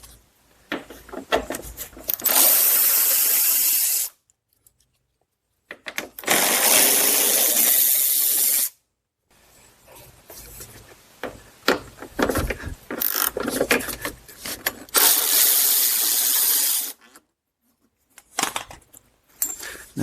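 A hand ratchet turns the 10 mm bolts holding the headlight on a Chrysler Town & Country, giving several long bursts of rapid, close clicking separated by short pauses, with no talking.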